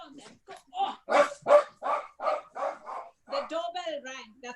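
A dog barks in a rapid string of loud, close yaps after a doorbell rings indoors, and a person's voice follows near the end.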